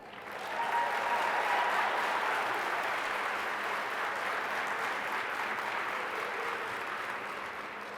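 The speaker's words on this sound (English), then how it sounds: "one more round of applause." An audience at a scholarship awards celebration claps in a sustained, even wash of applause, heard at moderate distance and fairly soft, with no voices on top.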